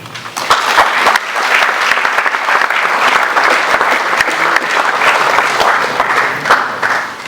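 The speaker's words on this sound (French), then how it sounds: "Je crois qu'on devrait applaudir." An audience at a conference bursts into loud, sustained applause, a dense wash of many hands clapping steadily throughout with no break.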